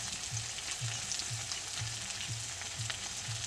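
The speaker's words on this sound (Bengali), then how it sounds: "সবগুলো মশলা দিয়ে একসাথে ভালো করে কষাতে হবে" A paste of ground ginger, onion, chilli and cumin frying in oil, giving a continuous sizzle with regular low scraping strokes roughly every half second as it is stirred, close and steady with no talk.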